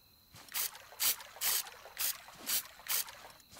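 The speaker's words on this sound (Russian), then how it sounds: "Заливаем водичкой." Garden beds planted with radishes are watered in the Scrap Mechanic video game, heard as six evenly spaced hissing sprays of water over a soft background.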